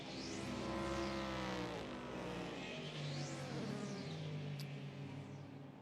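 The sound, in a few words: race cars at 2016 IMSA 12 Hours of Sebring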